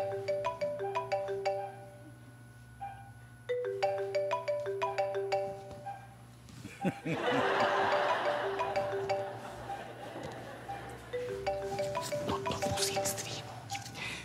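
A mobile phone ringtone plays a repeating melodic tune of bright tones in the middle of a lecture, breaks off amid rustling and a voice, then starts again more faintly.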